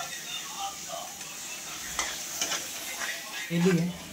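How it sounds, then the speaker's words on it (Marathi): Mutton masala fries in oil in a pan and is stirred. A soft, steady sizzle runs underneath, with a few scraping spoon strokes and a louder clatter near the end. "याचं तेल सुटूस तर याला हलवत राहायचे म्हणजे मिक्स करत राहायचे"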